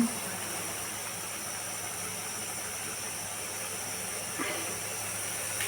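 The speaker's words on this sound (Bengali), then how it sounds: "এই যে বেশ সুন্দর করে টকবক করে ভাজা হচ্ছে তেলে, গরম তেলে" Pakoras bubble in hot oil, giving a steady, even sizzling hiss that holds throughout at a moderate level. A single faint clunk sounds near the end.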